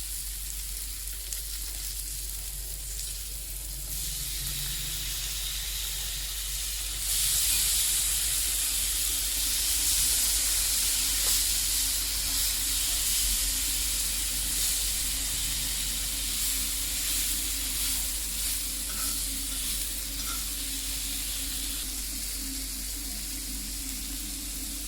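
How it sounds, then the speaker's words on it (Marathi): Pineapple slices fry in a pan with a steady, continuous sizzle and hiss of oil and steam that swells louder partway through and holds, with no voices over it. "एक 2 ते 3 मिनिटं आपण या फ्राय करून घेऊया."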